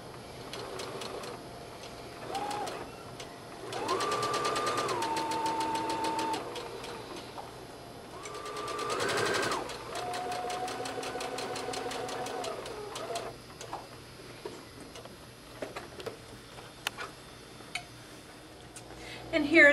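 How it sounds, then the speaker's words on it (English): A sewing machine straight-stitches along the folded hem of a jumper skirt in several medium-loud running bursts with pauses between them, while someone talks over and between the stitching. "we're going to follow with a straight stitch this fold that we created all the way around"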